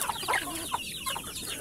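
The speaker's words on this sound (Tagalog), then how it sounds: "marami-rami na rin yung ating mga manok" Several chickens cluck close by in short, overlapping bursts over a brief stretch, with no voices.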